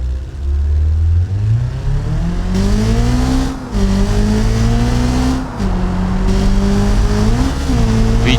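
A KLJP Covet sports car with an SR Tech engine in BeamNG revs hard and accelerates up through the gears, loud and close, its pitch climbing and dropping with each shift, with no talk over it.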